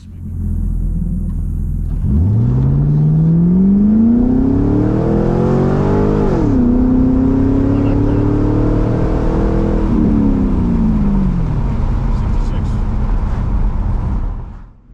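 A 2000 Trans Am Firehawk V8 roars loudly through a full dyno pull, revving steadily up through the gears with one brief dip and shift before climbing again, then winding down, close and alone.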